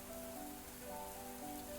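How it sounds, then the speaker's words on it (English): Rain droplets hitting the ground in a visual novel video game, a soft continuous patter with a faint sustained musical tone underneath. "The droplets made loud sounds as they hit the ground."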